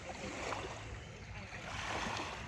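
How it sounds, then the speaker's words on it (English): Waves roll in at a beach in soft, overlapping washes of surf, rising and falling gently at a moderate distance, fairly quiet with faint ambient noise. "Look at these waves coming in."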